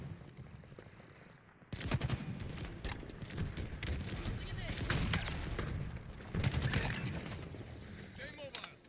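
Rapid gunfire crackles in bursts during a Halo Infinite Big Team Battle match, with dense automatic shots and other combat noise layered over game voice lines.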